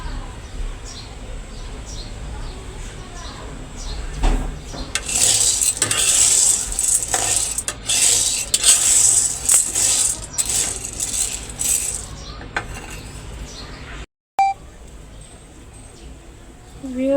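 Chana dal frying in oil over a low gas flame, stirred with a metal utensil: steady soft sizzle with clinks and scrapes that swell loud in the middle, then drop to a quieter hiss after a brief gap.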